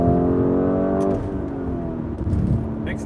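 A 2020 Lamborghini Urus engine in Sport mode revs high and then drops as the driver lets off, leaving a lower rumbling drone; close and loud throughout.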